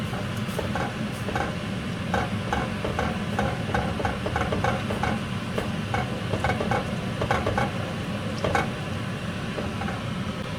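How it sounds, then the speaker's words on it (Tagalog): Maja blanca mixture with corn kernels and condensed milk being stirred in a pot, soft repeated scraping strokes in an even rhythm over a low steady hum. "Then we can stir it now."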